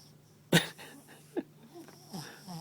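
A chubby papillon dog snores while asleep: a sharp snort, then a softer snore and a wheezy breath, faint and close in a quiet room.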